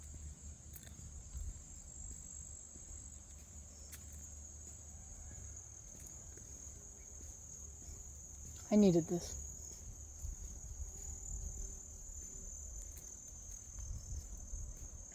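Crickets chirp outdoors in a steady, unbroken high trill that runs the whole time. A person speaks briefly near the middle over a soft, breezy background.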